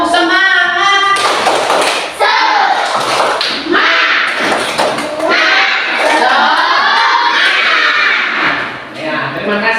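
A school class does a rhythmic 'tepuk semangat' clapping chant, loud sharp claps in a patterned beat mixed with many young voices chanting together.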